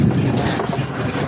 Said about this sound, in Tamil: சோ நம்ம போக வேண்டிய போட் இப்ப கிளம்பிடுச்சு.